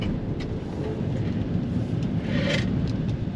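A 2024 Chevrolet Traverse Z71 SUV with all-wheel drive accelerating hard, its engine a steady, loud broadband roar that swells slightly toward the end, heard from inside the cabin with no talking.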